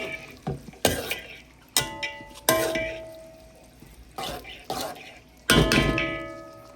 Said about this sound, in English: and mix all of your ingredients